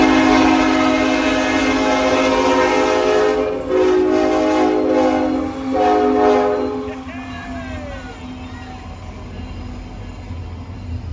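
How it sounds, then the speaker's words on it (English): A Union Pacific intermodal stack freight train rumbles past up close while its horn blares in several long blasts, then the rolling clatter continues after the horn stops. "there was this UP intermodal on the way"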